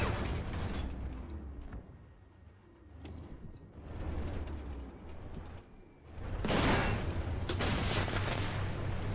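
A tank in the Armored Warfare video game fires its main gun, a loud broadband blast late in the clip after a stretch of rumbling mechanical clatter and creaking track noise.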